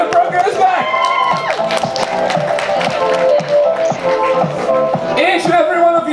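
Audience claps and cheers at a fantasy costume contest, a fairly loud, busy patter of hands mixed with crowd voices and tonal sounds throughout.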